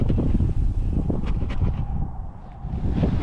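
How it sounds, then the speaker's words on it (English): Strong gusts of wind buffet a GoPro microphone beside the water while fishing for crappies and bluegills, a close, heavy low rumble that swells and eases briefly. "It's so windy, this GoPro keeps blowing over."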